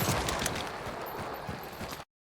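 Running footsteps of a player character in Hunt: Showdown, a steady rhythm of heavy low thuds, close and fairly loud against gritty in-game ambience, lasting about two seconds before cutting off.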